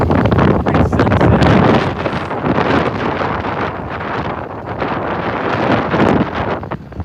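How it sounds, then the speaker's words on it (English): Loud, buffeting wind from Hurricane Beryl rumbles and roars directly on the microphone, gusting harder at the start and again near the end. "'Cause I'm sure that wind noise is pretty killer right now."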